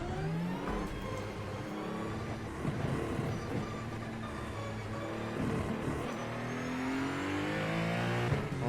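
A race car engine on the Sebring track in iRacing revs and climbs through the gears, its loud, continuous whine rising and falling steadily with each shift, with no talk over it.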